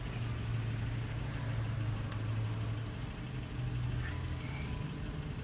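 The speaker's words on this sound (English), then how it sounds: "I'm driving the car." A car's engine drones steadily while driving, heard from inside the cabin as a low, even hum with a faint tonal whine. Nobody speaks.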